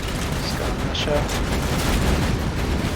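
Axton's automated turrets firing in Borderlands, a steady dense rattle of shots with a few brief higher zips layered on top, constant and fairly loud throughout.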